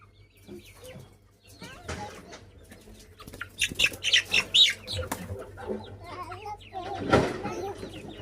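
Close-up clucking and squawking from a rooster and guinea fowl, with fluttering wings and someone talking among the birds.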